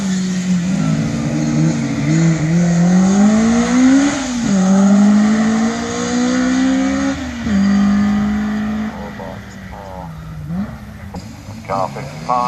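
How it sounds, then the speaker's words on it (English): A Ford Anglia 105E race car idles and revs at the start line of a sprint event at Thoresby, its engine note rising and falling repeatedly while a commentator talks over the public address. "Gavin Russell in the Ford Anglia 105 East comes to the line."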